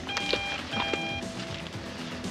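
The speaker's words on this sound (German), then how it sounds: "Telefon." An electronic telephone ring in a 1988 German crime drama, warbling in steady repeated bursts at moderate loudness against a quiet room background.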